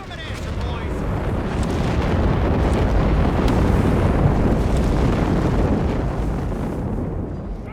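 Heavy artillery barrage pounding a victory point in Company of Heroes 3, a dense continuous rumble of overlapping explosions and booms that swells loud and stays sustained throughout.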